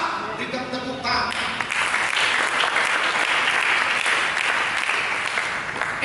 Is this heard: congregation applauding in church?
yes